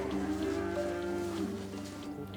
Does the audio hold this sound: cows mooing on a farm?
yes